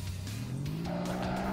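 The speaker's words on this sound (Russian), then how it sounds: "Вот это у нас автомобильчик мощный" In the video game Earn to Die 2, an armoured police car drives and skids, its engine a steady drone that rises in pitch under continuous loud tire screeching, with no talking.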